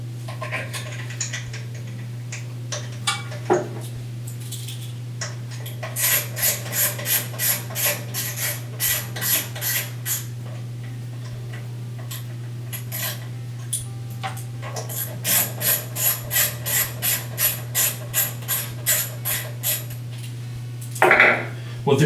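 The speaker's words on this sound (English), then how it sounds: "Now loosely secure the ignition coil with the screws" Screws are driven by hand to loosely secure an ignition coil on a Honda small engine, giving a series of short metallic scraping and clicking bursts in clustered rhythms, close and moderately loud over a steady low hum.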